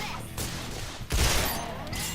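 Gunfire in the video game Resonance of Fate, a dense, loud fusillade of rapid shots with a heavier blast partway through, continuing in sustained bursts.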